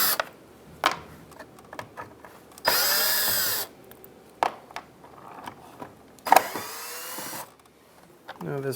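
A power drill removes four Phillips screws from a 2007–2015 Mazda CX-9 bumper cover, with two sustained whirring bursts separated by faint clicks and handling noises nearby.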